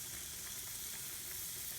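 Onions sizzling in hot oil in a pan: a steady, dense hiss of frying held at an even low level throughout, with no talking.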